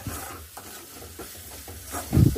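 Fish fries in a pan for a home-cooked fish fry, a steady sizzle broken by stirring scrapes, swelling into a louder, close sizzling burst near the end, with no voices.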